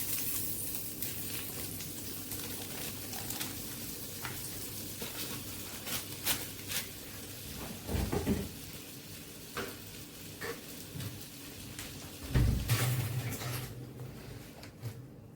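A little oil and butter sizzling in a pan, a faint, even hiss with scattered crackles and a few louder clatters of utensil against the pan.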